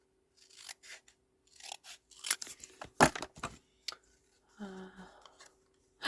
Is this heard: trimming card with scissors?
yes